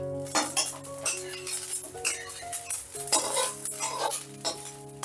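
An egg frying in oil in a pan for a poached-egg curry, with a loud continuous sizzle broken by repeated clinks and scrapes of a utensil against the pan.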